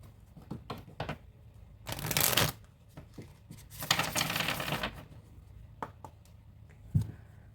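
Tarot cards being shuffled and drawn by hand, with crisp riffling bursts, soft taps and slides of the deck, close and fairly quiet with brief pauses between.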